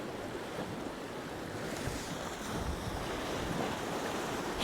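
Steady wind buffets an open shoreline during beach fishing for plaice, a continuous close rushing roar with surf-like wash underneath that builds slightly toward the end, with no talk.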